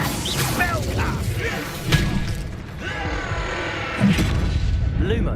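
Spell effects from the Hogwarts Legacy video game, Confringo and Incendio, land as loud booming blasts and crashing thuds in quick succession, with a man calling out between them.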